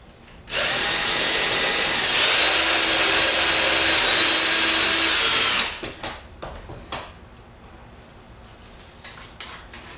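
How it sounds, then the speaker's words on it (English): A power drill drills pilot holes in a wooden table piece, whirring loudly and steadily for about five seconds, rising in pitch midway, then stops, leaving a few scattered knocks and clatters. "drill in some pilot holes."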